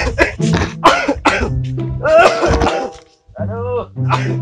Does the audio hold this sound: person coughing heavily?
yes